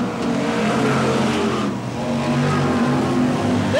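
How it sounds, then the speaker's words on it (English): BriSCA Formula One stock cars racing down the back straight at Kings Lynn, loud roaring engines with rising revs and cars sweeping past, a dense continuous roar from the pack. "This is what we've come to see and love from the BriSCA Formula One stock cars."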